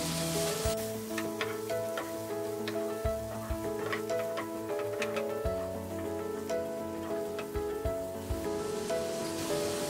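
Spring onions and corn fry in a pan, crackling and popping in irregular ticks over a steady sizzle, close by and with no voices.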